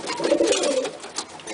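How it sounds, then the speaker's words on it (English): A single low, throaty coo from a nearby pigeon rolls out briefly amid faint background noise. "You're a moody pigeon."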